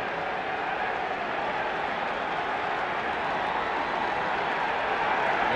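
Raucous baseball crowd at the Vet stadium before the first pitch of an NLCS Game 6, a dense, sustained roar of cheering and clapping that stays loud and even throughout.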